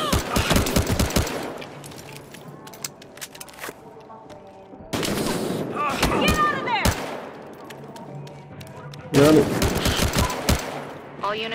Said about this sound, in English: All units respond. Multiple shots fired.